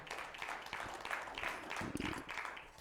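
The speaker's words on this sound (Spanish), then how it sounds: "Dele un aplauso a Cristo y pónganse de pie." A church congregation applauds for Christ during a Spanish-language worship service, a dense, steady wash of clapping running the whole time at moderate level, with a low voice briefly surfacing near the end.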